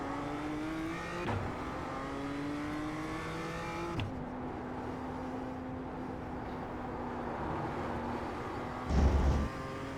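Rough, rapid vibration from the traction-control anti-skid system of a BMW production race car in iRacing at Laguna Seca, buzzing under the steady, shifting engine drone with gear-change breaks and a brief low thump near the end.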